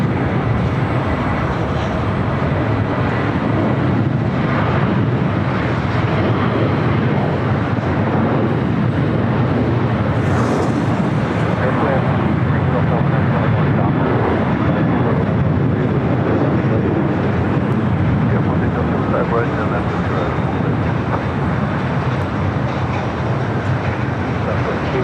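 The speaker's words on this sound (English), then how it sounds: "Air France up next for takeoff" An Air France airliner takes off at LAX airport, a loud, continuous jet roar with deep rumble filling the whole stretch, steady and close without letup.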